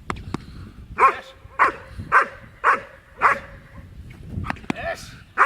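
A German Shepherd dog barks in a series of about eight sharp, spaced barks at close range, with a voice giving commands between them.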